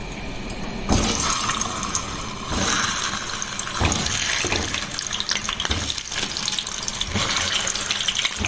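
Boiled, fluffed mashed potato drops into hot oil and fries with a loud, dense, continuous sizzle and crackle, with surges of bubbling throughout.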